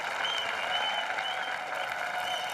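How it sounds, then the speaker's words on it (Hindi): Studio audience on a comedy show applauding loudly and continuously, a dense wash of many hands clapping with some crowd noise, sustained across the whole stretch. "इनके लिए जोरदार तालियां"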